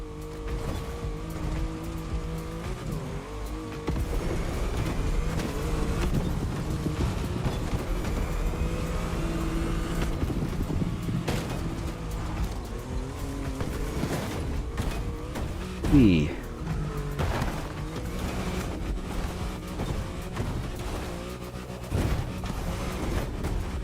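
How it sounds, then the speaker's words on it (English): Porsche driven off-road in The Crew Motorfest, a steady engine drone with shifting revs and tire noise running throughout, with one brief skid-like squeal partway through. "now we're gonna take the Porsche off-road"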